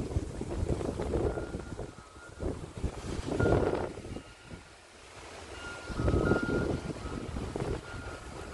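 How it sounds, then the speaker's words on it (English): Strong outdoor wind buffets the microphone in loud rushing gusts that swell and ease over several seconds, with a faint high beeping tone repeating in the background. "Real windy, guys."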